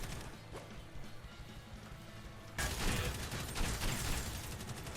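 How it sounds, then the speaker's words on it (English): Explosions in a third-person shooter video game: a loud, sudden dense burst of blasts and crashing debris erupts partway through, then continues as a sustained roar of action over quieter game sounds before it. "There be explosions!"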